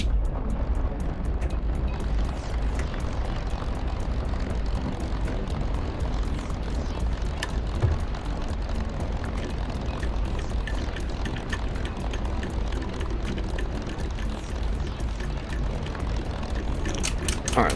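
Steady loud drone of an aircraft engine with propeller beat, continuous and close throughout as the flaps are retracted, with no pauses or other clear sounds.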